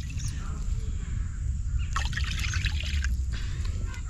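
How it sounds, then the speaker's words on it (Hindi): Water poured from a small bowl into a cooking pan trickles and splashes in a brief burst over a steady low background hum in a home kitchen. "तो देखिए, कटोरी हमने पानी लिया, इसको डाल देते हैं।"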